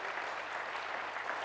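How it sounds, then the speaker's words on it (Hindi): An audience at a mind-management lecture claps together, a brief, dense, even patter of applause heard from a short distance with no talking. "इस स्टेज के लोग जो टाइम का प्रबंधन के, उनके लिए भी जरा तालियां बजा लीजिए"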